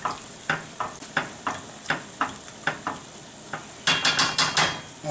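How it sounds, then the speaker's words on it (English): A spoon stirs a mixture seasoned with powdered saffron for lobster ravioli, scraping against the bowl in steady, evenly spaced strokes, then speeding into a quicker flurry near the end, close and clear with no voices. "together with 1 teaspoon of saffron strands, or powdered saffron as I have here. Okay, mix everything real nice."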